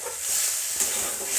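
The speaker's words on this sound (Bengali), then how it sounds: "এবার এটা আস্তে আস্তে ভাজা হবে" Fish gills and swim bladders frying with spices in a pan over lowered heat, a steady soft sizzle with a faint stir near the middle, close and alone.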